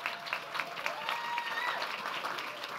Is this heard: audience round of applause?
yes